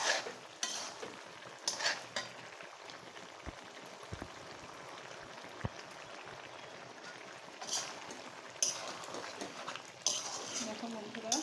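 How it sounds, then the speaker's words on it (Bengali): A vegetable curry being stirred in a pot once the lid is lifted, with a soft sizzle and bubbling, a few clinks of spoon and lid, and scraping stirs, quiet and close, with some talking. "আমি একটু ঢাকনাটা উঠে নেড়ে দিই"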